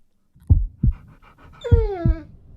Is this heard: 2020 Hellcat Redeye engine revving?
no